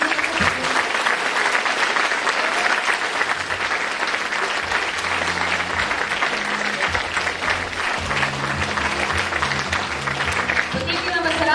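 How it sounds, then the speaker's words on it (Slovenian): Sustained applause from an audience at a dance performance closing event, dense and steady throughout, with some crowd voices mixed in. "ampak vsem dajmo en aplavz."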